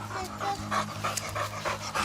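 A dog pants rapidly and steadily at close range in a home setting, a continuous run of quick breaths with no words spoken over it.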